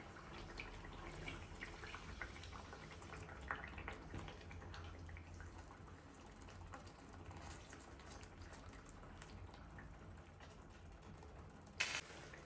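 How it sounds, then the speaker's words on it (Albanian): Sweet peppers and cottage cheese frying in a pan for traditional Albanian fergese, a faint, steady sizzle and crackle with small irregular pops, heard alone at low volume. "E fërgoj për 3-4 minuta dhe gjizën."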